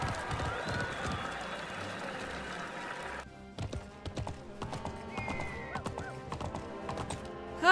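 A horse galloping in the video game Alicia Online, with rapid rhythmic hoofbeats and a whinny, then a brief pause followed by a fresh run of sharp clip-clops close up, over faint game sounds.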